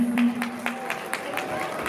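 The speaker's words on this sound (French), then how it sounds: "les acclamer comme il se doit et les applaudir" Wedding guests at a religious wedding celebration clap in a steady rhythmic beat for the newlyweds, with a sustained voice humming or calling over the clapping.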